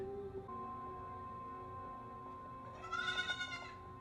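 A wavering animal bleat, like a sheep or lamb, rises briefly over a steady low hum with faint sustained tones, in Severance season 1 episode 5.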